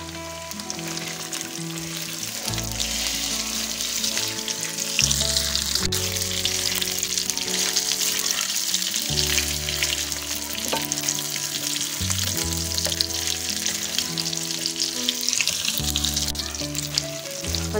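Cleaned chicken feet fry in a pan with a continuous hissing sizzle that runs the whole time beneath louder background music.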